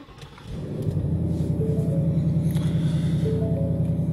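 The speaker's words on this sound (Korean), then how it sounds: "시동 한번 켜보도록 하겠습니다" A Ford Mustang 2.3 EcoBoost Premium engine starts with a short crank, then settles into a steady, loud, deep idle rumble close by with a throaty exhaust note.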